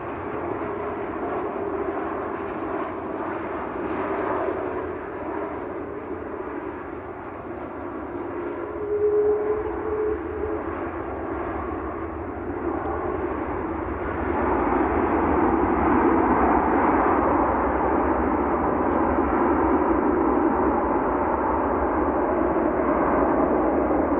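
Virgin airliner arriving from Atlanta at Manchester Airport, a steady jet roar heard at moderate distance that swells louder in the second half, with no talk.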